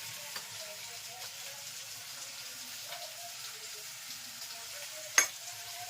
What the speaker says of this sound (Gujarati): અહીંયા મગના શાકનો વઘાર કરવાનો છે.